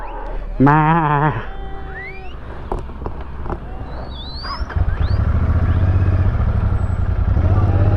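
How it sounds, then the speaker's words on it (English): A single loud, wavering sheep bleat rings out close by in Ladakh, between Sonamarg and Kargil, followed by scattered clicks and then a steady rumbling engine drone. "I'm surrounded by the sheep."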